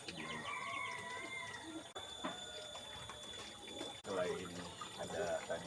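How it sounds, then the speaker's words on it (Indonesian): Chickens on a small integrated farm plot that also has fish ponds and vegetable beds, clucking faintly amid steady outdoor ambience with trickling water and a person talking over it. "ini sekarang udah ada ayam koleksi terbaru di kebun Abah Hasim"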